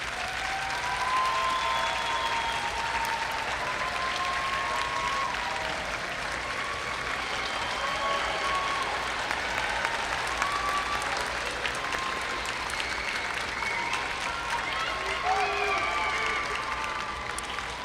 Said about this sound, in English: Graduates, join me in giving them a round of applause for helping you get to this place.